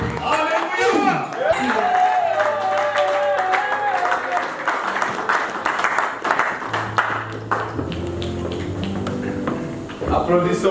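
A wedding congregation claps and cheers in praise, busy mixed applause layered with voices and music throughout, loud and close.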